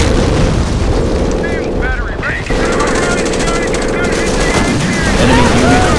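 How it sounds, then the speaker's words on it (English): Gunfire from the Company of Heroes video game, Blitzkrieg mod, in a battle for Hill 331: dense machine-gun bursts and booming explosions roar continuously and loudly, with voices mixed in. "Base is under enemy fire."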